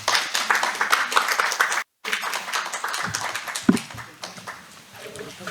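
Audience clapping at the first Separated Families Day ceremony, a dense, steady patter of many hands that breaks off briefly and then resumes more thinly, with faint voices mixed in.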